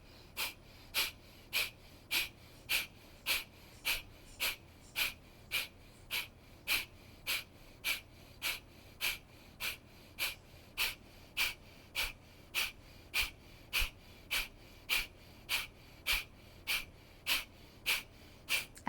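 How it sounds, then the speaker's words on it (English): Breath of fire yoga breathing through the left nostril: rapid, sharp, rhythmic exhalations about one per second, steady and close, repeating evenly throughout with no talking. "continue a breath of fire through the left"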